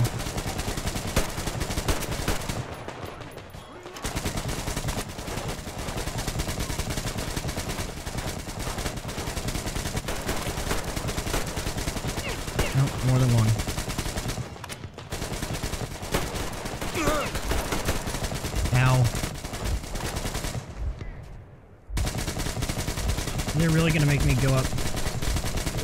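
Sustained automatic gunfire in the video game Metro Exodus, long loud bursts of rapid shots with brief pauses, and shouting voices breaking through the clatter.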